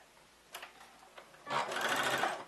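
A sewing machine runs a straight stitch, back-stitching back and forth: short bursts of whirring stitching, then a longer, louder run, heard close with no talk.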